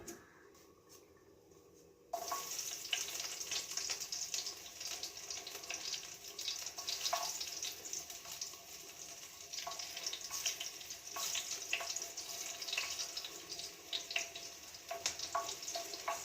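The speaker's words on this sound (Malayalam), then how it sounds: "ഇനി നമുക്ക് ചെറിയ ഉള്ളി ഇട്ട് കൊടുക്കാം, കടുക് വറുക്കാൻ." Small onions and mustard seeds hit hot oil for a fish dish, bursting into a loud, close, continuous sizzle with crackling pops after a brief quiet start.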